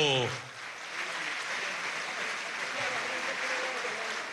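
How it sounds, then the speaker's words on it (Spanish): Applause from a crowd at a party congress, steady and moderately loud, following a brief voice at the start and continuing for several seconds. "Qué belleza, pues un aplauso."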